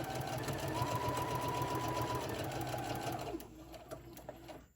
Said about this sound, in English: just sew on the end